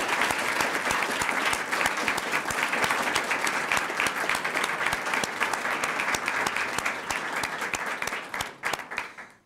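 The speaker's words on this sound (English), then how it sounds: "Let's give her applause from afar," An awards ceremony audience applauds an honoree from afar, with dense, steady clapping sustained for about nine seconds before tapering off at the end.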